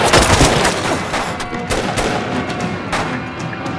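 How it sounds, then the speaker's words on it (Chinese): Gunfire from a wartime drama battle scene against Japanese troops: loud, dense bursts of rapid shots and cracks that overlap into an almost continuous barrage. "敌人火力太猛了"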